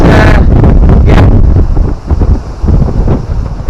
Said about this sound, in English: If it weren't windy, it'd be quite nice here today.